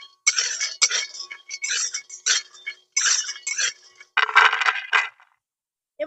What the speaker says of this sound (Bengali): এরকম হালকা আঁচে কিন্তু এটাকে নাড়াচাড়া করে আমি এইভাবে ভেজে নেব।